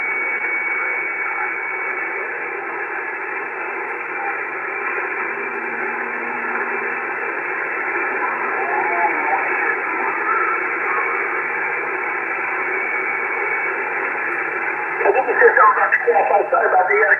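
A ham radio receiver hisses with steady band-limited static while garbled, overlapping transmissions from several stations bleed through each other, growing rougher and louder near the end.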